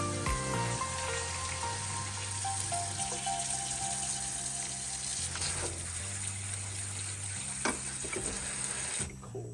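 Cold water pours steadily over soft boiled potatoes in a pot, a continuous close rushing hiss that holds for several seconds before cutting off abruptly, with a low hum running underneath.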